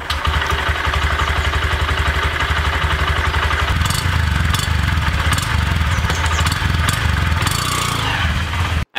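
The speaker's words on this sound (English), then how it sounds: "on hitting that self start button, the engine of the BS6 Shine starts silently without any gear meshing noise in a very satisfying manner" A Honda Shine BS6 motorcycle engine starts and settles into a steady idle, a close, even low-pitched putter with light mechanical clatter throughout, ending abruptly.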